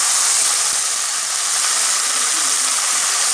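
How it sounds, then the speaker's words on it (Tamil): Drained boiled cassava hits a hot tempering pan with onions and mustard seeds, giving a loud, steady hiss of sizzling that fills the whole moment without a break. "இப்போ நம்ம வடிகட்டி வச்சுருக்கிற கப்பக்கிழங்கு போட்டுடலாம்."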